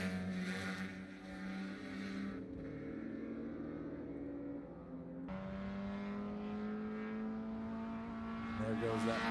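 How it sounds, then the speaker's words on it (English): Mazda NA Miata race car passing on a circuit at a FARA event: a buzzing four-cylinder engine note rising and shifting as the car goes by, with other engine drones layered underneath at mid distance. "There goes that mighty NA Miata, 112."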